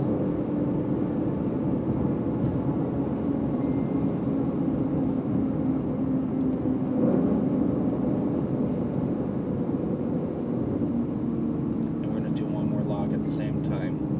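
Roush Stage 3 Mustang running on E85, pulling in sixth gear from about 2500 RPM: a steady, deep engine and road drone heard from inside the car throughout, with someone talking over it.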